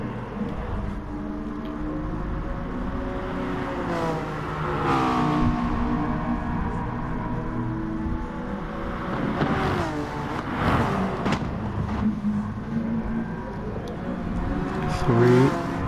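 Race cars in a racing video game set at Laguna Seca, including an NSX, whining and revving past with rising and falling engine pitch, while a commentator talks over them.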